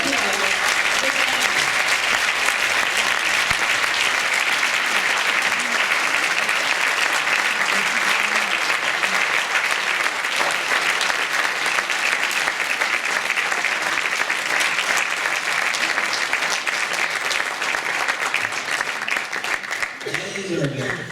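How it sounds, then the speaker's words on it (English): An audience at a United Nations International Day of Happiness event applauds a Global Citizenship Award honoree, with loud, continuous clapping lasting about twenty seconds and a few voices mixed in. "Please give a warm round of applause."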